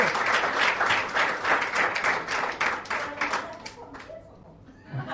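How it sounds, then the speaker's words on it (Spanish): Audience clapping at a church gathering, brisk dense applause that tapers off toward the end, followed by a brief low sound at the close. "denle el aplauso al señor Vientos"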